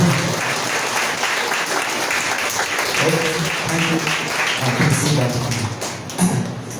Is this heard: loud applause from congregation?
yes